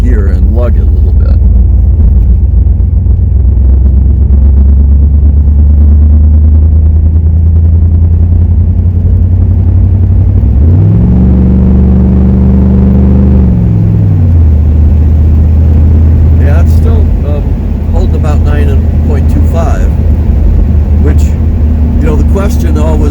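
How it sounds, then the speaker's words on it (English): A 305 Camaro engine lugs in high gear with a loud, deep, steady low drone and a wavering rise in pitch midway, dropping back to a constant rumble, with faint voice hints near the end. "see if I can get it it's in high gear and lug it a little bit"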